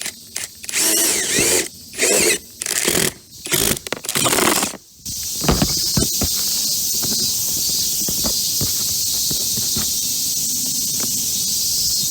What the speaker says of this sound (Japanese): そしたらですね、ここに穴を開けていきたいと思います。